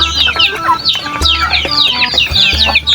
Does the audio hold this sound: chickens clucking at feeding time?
yes